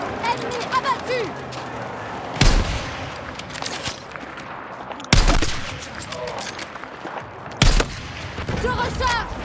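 Heavy gunfire in the video game Battlefield 6: sustained bursts of shots with three loud booming blasts spaced through the fight, while players talk over the din.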